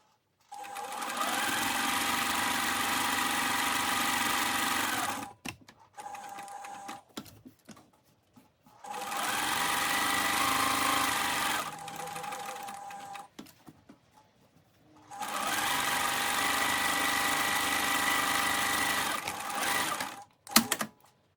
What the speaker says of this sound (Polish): Będziemy e, szyć taką kieszonkę, czyli zszyjemy tutaj jeden bok, drugi i trzeci.